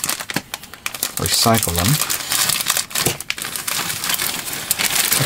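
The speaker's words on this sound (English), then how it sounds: "I'm going to get them out of their plastic bags" Plastic bags crinkle and rustle continuously as parts for a 1/100 Master Grade Gundam Aegis model kit are unpacked, loud and close, while someone talks over the handling.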